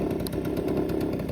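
A Tomos Wizard 50cc moped engine runs steadily up close, a brief even buzzing drone with faint mechanical clatter and no voices.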